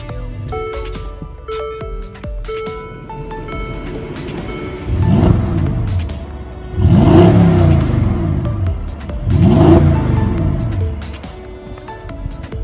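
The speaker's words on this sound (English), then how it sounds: "just push the start button to start" An SUV engine starts with a push button, then revs three times in loud, rising bursts with a throaty exhaust note, settling back to a steady idle between each rev.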